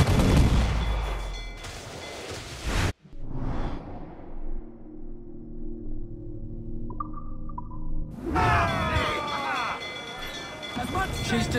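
Ship cannons fire in Assassin's Creed IV: Black Flag during a naval battle with a Spanish vessel: loud, dense booming bursts at the start, a lull with rumbling and tones, then another heavy barrage.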